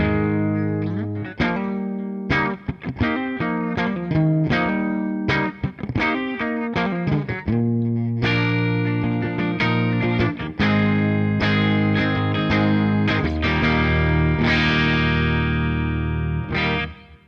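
An electric guitar played through an effects rig rings out in a clean tone, loud and close, with strummed chords and picked phrases that sustain and decay, no talking over it.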